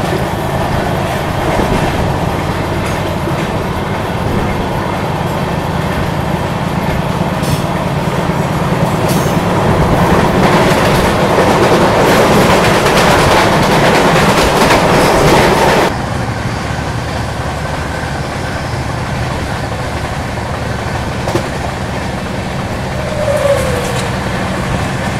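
The 12612 Chennai Garib Rath Express runs on rails with a loud, steady rumble and rattle of wheels and carriages. The roar continues without pause and grows somewhat quieter and duller for the last third. Nobody speaks.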